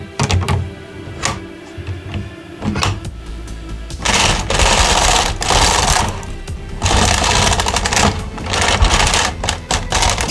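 A 1990s knitting machine runs in loud rasping passes, the carriage sliding back and forth with clattering mechanical rattles and brief pauses between strokes.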